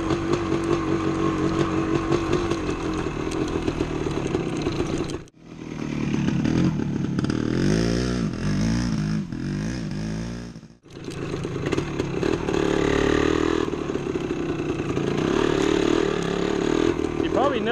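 A 1975 Yamaha DT250 two-stroke motorcycle cruises at low RPM through woods, its engine buzzing steadily up close with two brief dips as the throttle eases, and a rider's voice occasionally under it.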